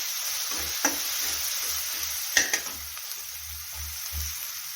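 Onion, tomato and garlic cook in a pan as coriander powder is added for a Maharashtrian harbhara bhaji, making a faint, steady sizzle broken by a couple of sharp utensil taps.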